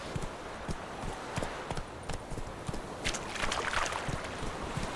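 Roach, a horse in The Witcher 3, trots with clear rhythmic hoofbeats on the ground, close and fairly loud, over a soft ambient wash with no talk.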